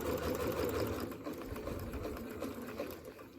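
A sewing machine stitches fabric coasters in a steady, continuous run of rapid mechanical hum and needle patter, close and even in level, with no talking.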